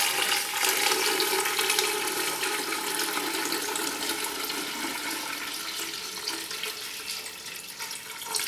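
Water runs steadily into a pot or bowl while couscous is prepared in a home kitchen, a continuous rushing splash like a tap left open, loud and close throughout with no talking.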